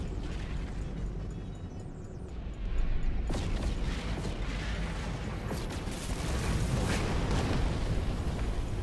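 Starships blown apart in a space battle in the video game No Man's Sky, heavy booming explosions and bursts over a constant loud rumble, with sharp blasts growing denser toward the end.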